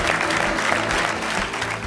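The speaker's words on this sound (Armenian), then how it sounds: "բարձր ծափերով" Loud, sustained applause from a studio audience welcoming a well-known actress onto a sports-themed Armenian TV show, dense steady clapping with no pauses throughout.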